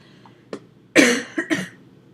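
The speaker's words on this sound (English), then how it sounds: "Sorry, excuse all the coughing." A person coughs indoors, first a faint small hack, then a loud burst followed by two quicker, weaker coughs, close and alone with no talk.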